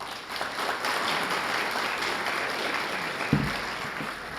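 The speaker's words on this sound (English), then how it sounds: "One more round of applause." Audience applause at a police department annual awards ceremony, a continuous wash of clapping at moderate level with one brief sharp knock near the end.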